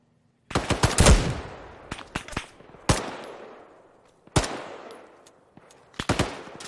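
Machine-gun suppressing fire in the Arma 3 video game: several sharp bursts of rapid shots, loud and close, with echoing decays between the bursts and no talk over them.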